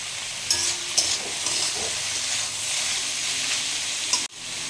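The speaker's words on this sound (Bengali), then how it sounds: "এখানে সমস্ত সবজি স্টার ফ্রাই হয়ে গেছে।" Mixed vegetables stir-fried in a pan for egg fried rice: a loud, steady sizzle with a few sharp scraping stirs and a final clatter as it cuts off.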